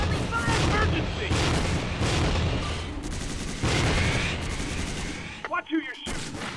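Heavy, continuous automatic gunfire rages in the Tactical Ops Monster Attack video game: loud, dense bursts fill most of the clip, then break off into a few scattered shots, with a voice briefly calling out.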